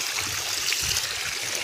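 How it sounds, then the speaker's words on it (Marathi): Spring water flowing out of a village pond, a steady soft rush and trickle heard at close range, faint and continuous without voices. "हे बघा, इकडून येतंय सगळं पाणी।"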